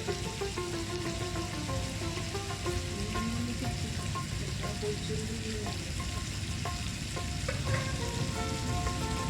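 Chicken thigh legs fry steadily on a tawa with chopped curry leaves, giving a constant dense sizzle and crackle with small pops throughout, close and even, with no talk.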